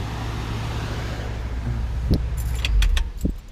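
A 1964 Lincoln Continental V8 idles with a steady low rumble before it is shut off, followed by a few sharp metallic clicks and jangles like keys, all close by and with no talking.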